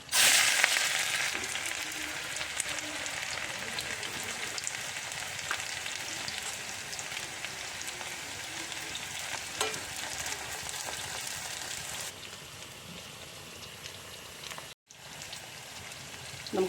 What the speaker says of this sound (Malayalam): നമുക്ക് എണ്ണ ഒഴിച്ച് കൊടുക്കാം. ഉള്ളി അരിഞ്ഞത് ഇട്ട് കൊടുക്കാം.